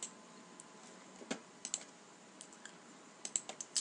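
A computer mouse double-clicking during assembly work in SolidWorks, sharp light clicks scattered over a quiet room tone, a close pair of clicks near the start and a few more clustered toward the end.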